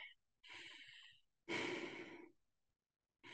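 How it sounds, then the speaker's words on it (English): A person breathes hard after a fitness workout, with heavy, drawn-out breaths that come in separate bursts and short pauses between them. The sound is close and fairly faint. "I'm just breathing hard."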